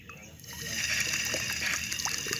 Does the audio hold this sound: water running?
yes